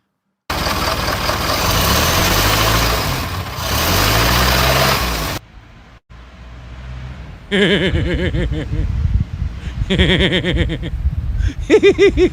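A loud car idles with a heavy rumble, goes briefly quiet, then roars away with repeated rising engine revs that sweep up in pitch as it pulls off.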